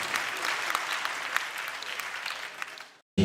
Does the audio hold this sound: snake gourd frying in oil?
no